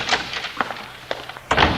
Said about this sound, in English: Lock the door, Johnny.